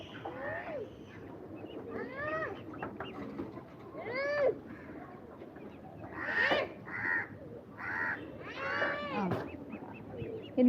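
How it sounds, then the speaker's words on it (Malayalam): Harsh crow caws repeat in short bursts, fairly close and loud, with a few other bird calls mixed in. "കാക്ക കണ്ടില്ലേ ഇനി എൻ്റെ വീഡിയോയിൽ കാക്കയ്ക്കുള്ള സ്വാഗതമാണ്"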